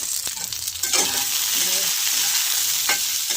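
Vegetables for a thin rohu fish curry with green banana and drumstick frying in a pan while being stirred, a steady close sizzle with scraping stir strokes over it.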